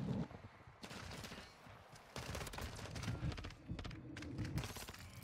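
Rapid bursts of gunfire crackle in a Call of Duty Modern Warfare 2 one-on-one match, volleys stopping and restarting in dense clusters and filling the whole clip without talk.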